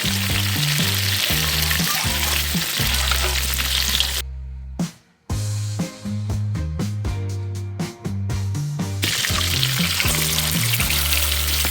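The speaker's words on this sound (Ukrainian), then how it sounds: "друга частина нашого м'яса обсмажилась" Marinated meat sizzles loudly in a cauldron, a close, continuous frying hiss with a brief quiet gap partway through, then crackling spurts as cooking resumes, with no one speaking.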